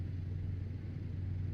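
Renault truck engine in Euro Truck Simulator 2, a steady low rumbling drone with a strong deep hum, held evenly and fairly quiet throughout.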